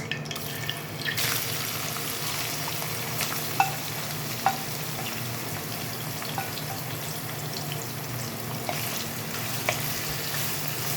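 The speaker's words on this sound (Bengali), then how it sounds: "এবার এই তেলেই আমি ভেজে নেব নুন হলুদ মাখিয়ে রাখা চিংড়ি মাছ" Prawns marinated with salt and turmeric fry in oil in a kadai after potatoes and pointed gourd, giving a continuous close sizzle punctuated by occasional spatula taps and clinks, with no voices.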